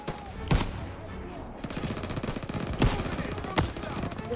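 Enemy MG machine gun fire in Call of Duty: WWII, heard as sharp individual shots and short bursts spaced a second or so apart over a low rumbling battlefield background, moderately loud.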